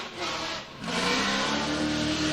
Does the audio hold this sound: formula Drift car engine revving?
yes